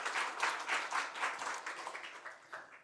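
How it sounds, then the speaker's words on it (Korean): A church congregation claps together during a Sunday worship service, a dense patter of hands rising and falling in a few loose waves before thinning out, moderately distant and with no voices over it. "우리 하나님께 영광의 박수 올려드리겠습니다."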